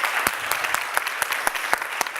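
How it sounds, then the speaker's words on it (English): Conference audience giving a short round of applause, scattered distinct claps from a modest crowd heard up close and steady, with no speech over it. "you are very polite that you give hands of applause"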